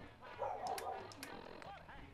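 A dog barks and yelps in the video game Fallout 4, a few short sharp barks and whines at moderate distance amid game ambience, with a person talking over it.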